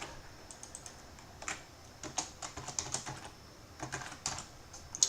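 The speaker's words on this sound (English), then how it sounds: "I'm typing in the wrong place here" Computer keyboard typing clatters in irregular bursts of quick, close key clicks, pausing briefly between runs, with no voices over it.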